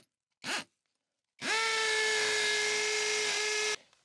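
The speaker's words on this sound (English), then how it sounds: "I'm using a hammer drill to put my hole in here." Hammer drill boring a hole into a house wall for a solar power install: a short burst, a pause, then a loud steady whine running for about two seconds before stopping abruptly.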